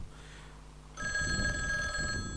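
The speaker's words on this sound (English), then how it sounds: "Oh, someone's on the phone." An old-style telephone bell rings in the horror adventure video game Dark Fall: The Journal, starting abruptly with a steady metallic trill that continues loud and close over a low ambient hum.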